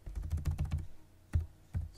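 Keys clatter on a computer keyboard as a chat command is typed, a quick run of soft close taps followed by a pause and two separate keystrokes.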